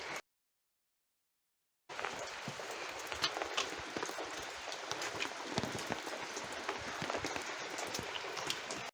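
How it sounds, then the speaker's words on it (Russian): Heavy rain pours steadily on a vegetable garden, a dense, continuous hiss with scattered close drips and patters, starting abruptly after a short silence and staying loud throughout. "А сейчас сильно-сильно идет дождь."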